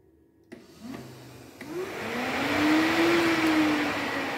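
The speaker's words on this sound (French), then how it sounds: "Donc le ventilateur haute vitesse marche très bien" A small high-speed fan powered from a 12-volt supply clicks on after a few faint taps, then spins up with a rising whine and a steady airy hum that grows louder and holds.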